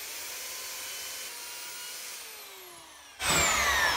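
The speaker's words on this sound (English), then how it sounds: "So now I'm just gonna take the belt sander to this." A belt sander runs against wood flooring, a steady whirring grind held close for several seconds before it swells louder as the sander bites harder into the board.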